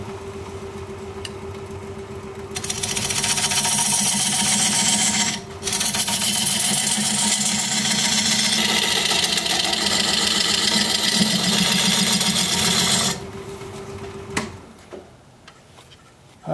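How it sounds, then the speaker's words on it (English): A wood lathe spins a root-ball blank while a diamond point tool squares the sides of a tenon. It makes a loud, steady whirring scrape for about ten seconds, with one brief dip midway before it winds down. "I'm going to use this diamond point tool to square up the sides of the tenon."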